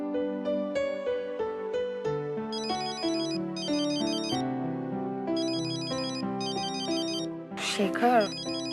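A mobile phone ringtone plays a repeating melodic tune with bright chiming notes, fairly close and steady, inside a home in a Marathi TV serial scene; a brief voice cuts in near the end.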